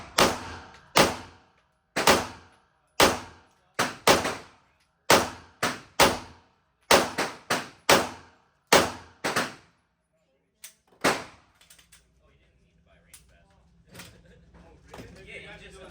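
Walther PDP Pro X Comp pistol fired at a range during a trade event: about fourteen sharp, close shots in a fairly even rhythm, a few in quick pairs, then quiet background noise.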